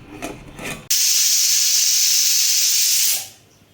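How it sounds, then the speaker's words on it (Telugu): A pressure cooker releases a loud, steady steam hiss that bursts on suddenly and holds for about two seconds before cutting off, following a brief muffled rattle. "ఇప్పుడు కుక్కర్ మూత పెట్టేసి మూడు విజిల్స్ రానివ్వండి"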